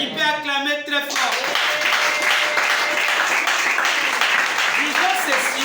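A church congregation bursts into loud, sustained applause right after a preacher's voice, the dense clapping filling the space evenly for several seconds.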